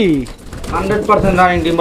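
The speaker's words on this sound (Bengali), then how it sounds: "আর কবুতরটা এতটা অ্যাক্টিভ এতটা চঞ্চল আপনারা দেখতেই পাচ্ছেন" Pigeons for sale, an active breeding pair, give soft throaty coos close by, mixed in with someone talking over them.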